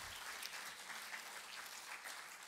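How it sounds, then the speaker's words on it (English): An audience at a memorial lecture event applauds its speakers and panelists, a steady, even wash of clapping that is fairly faint and distant and runs without a break for the whole stretch. "could we please give our speakers another round of applause to express our appreciation"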